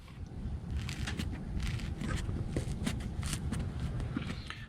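An old, crusty radiator hose on a Volvo B20 engine is squeezed by hand, giving a continuous close crunching and crackling with gritty bursts throughout and no speech.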